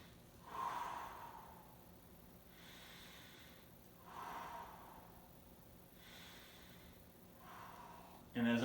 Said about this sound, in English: you're going to take those breaths